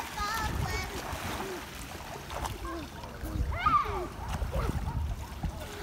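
A child named Carly splashes while swimming in the deep end of a pool, giving soft, irregular sloshing and splashes that are close but fairly quiet, with adults talking encouragingly over them.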